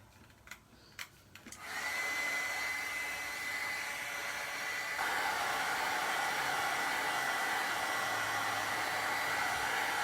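A hair dryer blows steadily on a freshly painted art piece, switching on after a few soft clicks and then running as a loud, continuous broadband whoosh with a faint whine, growing slightly louder midway, with no talking.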